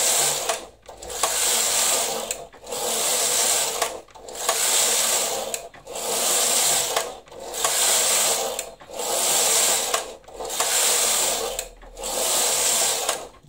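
A Knitmaster Silver Reed knitting machine carriage makes loud, close mechanical clattering passes across the needle bed. About seven regular sweeps come in steady succession, each separated by a brief pause as the carriage reverses, with no voices.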